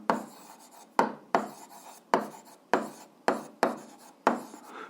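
Pen strokes on paper while working an eighth-grade algebra exercise: seven or eight sharp scratchy bursts, each starting abruptly and trailing off, close and fairly clear, with no talk.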